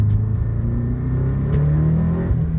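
A Subaru WRX STI pulls ahead under acceleration, its engine a steady, loud, droning rumble heard from inside the car that rises slightly in pitch, with no talking.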